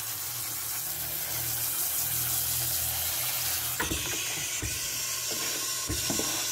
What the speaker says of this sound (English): We're going to rinse these a little bit.